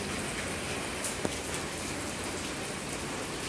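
Rain falls outdoors in a steady, dense hiss that holds evenly throughout, with one small tap partway through and no voices.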